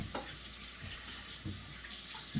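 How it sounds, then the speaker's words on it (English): Water running from a kitchen tap as hands are washed, a steady broadband hiss with a few soft splashes and knocks. "I'm going to wash my hands real quick"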